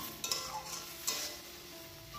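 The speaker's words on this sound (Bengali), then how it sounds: "এখন কষাচ্ছি।" Potato and pointed gourd with spices sautéing in a pan: a quiet sizzle broken by a few sharp scrapes and clinks of a spatula stirring, close and faint, without talk.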